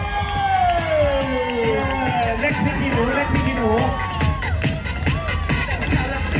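A crowd at an outdoor Muay Thai main event during the Songkran festival at Sanam Luang, Bangkok, cheers and shouts loudly and steadily, while an amplified voice talks over the noise.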